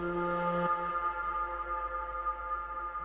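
A Serum synth chord stops short, then dub-echo repeats and a lingering wash of reverb ring on, gradually fading and smearing together.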